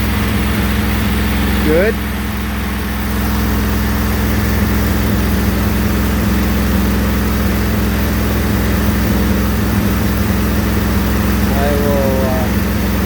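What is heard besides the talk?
Briggs & Stratton replacement engine running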